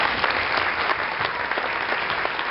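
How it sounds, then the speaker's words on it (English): An indoor audience gives a round of applause at a business talk, a steady dense clapping that holds at even strength throughout. "Let's give him a round of applause."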